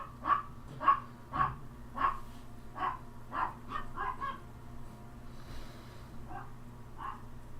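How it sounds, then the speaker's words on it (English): Dogs, including a bulldog, bark at feeding time in a rapid string of sharp barks and yips that taper into scattered whimpers, moderately loud and slightly distant. "Dogs are getting their lunch on."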